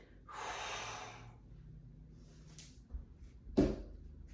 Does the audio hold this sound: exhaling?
yes